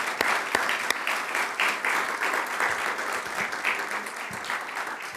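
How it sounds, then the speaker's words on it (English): Sustained audience applause fills the room, a dense wash of many hands clapping steadily and fairly loud throughout, with no voices over it. "So, one more round of applause."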